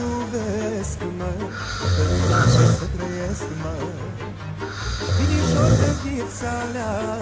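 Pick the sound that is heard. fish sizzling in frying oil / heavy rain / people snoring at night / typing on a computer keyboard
people snoring at night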